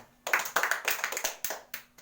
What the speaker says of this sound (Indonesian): Pinter, tepuk tangan.